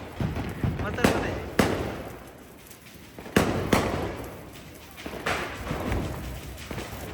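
Diwali firecrackers bursting in a city, sharp loud bangs at irregular intervals, some near and some farther off, with voices talking between the blasts.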